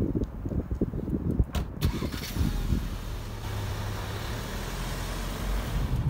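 A 2017 VW Arteon Elegance with a 280 PS engine starts up, a brief starter crank giving way to a steady, close idle hum that continues evenly to the end.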